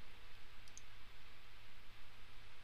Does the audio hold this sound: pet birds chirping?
no